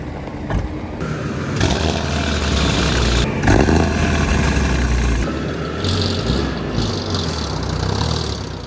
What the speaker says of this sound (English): And the car fired right up.